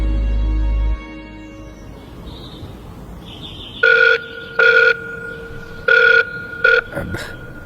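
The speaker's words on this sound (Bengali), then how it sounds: "চূড়াকে ফোন করলো সিঞ্চন" A telephone ringing, four short bursts of an electronic ring in a repeating pattern, loud and close, following a brief low thump and quiet room tone.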